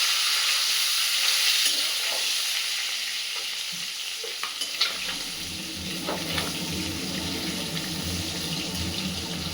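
Tengra fish sizzle in hot oil, a steady bright hiss of frying with a few soft clinks and stirring scrapes, close and unaccompanied by talk.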